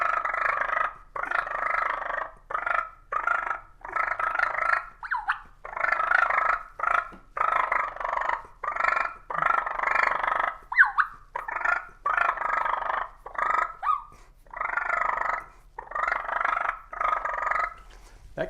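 Rapid, aggressive turkey purring played on a hand call, mimicking two birds squabbling, in repeated bursts of rolling purrs with short gaps, loud and close, with no talking.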